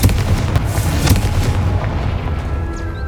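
Confringo spell explosion in Hogwarts Legacy: a loud booming blast at the start with a few sharp follow-up cracks, then a rumbling tail fading over a few seconds.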